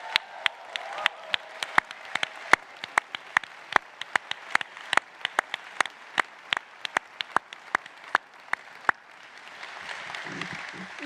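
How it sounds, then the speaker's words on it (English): A graduation ceremony audience applauds for the class of 2025 at Stanford, with dense, sustained clapping and sharp individual claps standing out over a steady crowd wash, fading toward the end. "It's time to give yourselves a massive round of applause."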